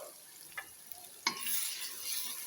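Spices roast in a pan for a kadu kofta curry. Soft sizzling and frying hiss swell after a few light stirring clicks and scrapes, close and fairly quiet, with no voices.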